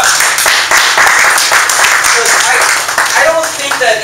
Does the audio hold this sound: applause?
yes